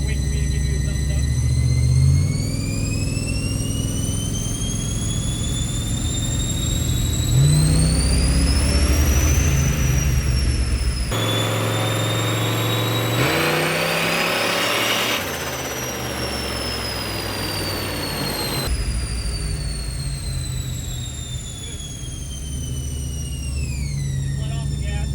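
A turbocharged police car is run on a dyno, its engine droning and climbing in pitch as it revs up and eases off several times, loud and close, with a high turbo whine and people talking throughout.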